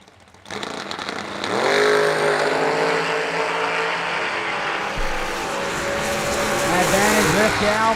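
Drag racing cars launch at the Million Dollar Race, one a Roadster, with a sudden loud engine roar that rises and holds at high revs, heard up close under an announcer's voice.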